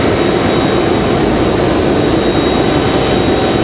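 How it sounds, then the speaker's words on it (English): Steady broadband roar of a Delta Boeing 757-200's jet engines arriving from Atlanta at Raleigh-Durham International Airport, continuous and fairly loud with no breaks or voices. "Delta 3245 coming in from Atlanta, Georgia. That 757-200."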